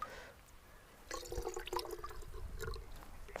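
A 100 ml dose of waste decomposer liquid is poured into two liters of water, giving a soft splashing pour that starts about a third of the way in and runs steadily to the end, with no voices.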